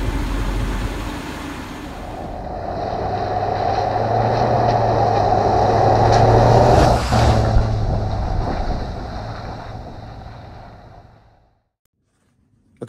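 A Land Rover 90 V8 engine idles as it warms up, a steady low rumble that swells slightly, then cuts off abruptly near the end, leaving silence.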